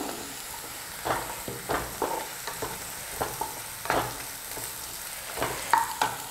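Chopped spring onions frying on a high flame for chilli paneer, a constant sizzle broken by sharp, regular clicks and scrapes of a spatula tossing them in the pan.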